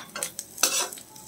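Coconut pieces frying in a pan sizzle while a spoon scrapes and stirs them. There are a few quick, close strokes over a brief second, with no voices.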